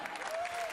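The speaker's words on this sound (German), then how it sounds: "Euer Applaus." A short burst of dense audience clapping in a hall at the Cologne carnival Dreigestirn proclamation, steady and moderately loud, with no voices over it.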